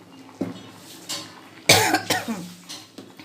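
Someone coughs in several sharp, close bursts, the loudest near the middle, set off by pungent fumes from chilies tempering in oil for khichuri.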